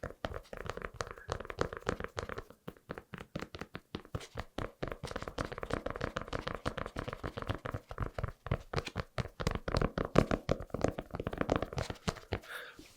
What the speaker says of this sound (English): it's a suede fabric, so it can create some good tapping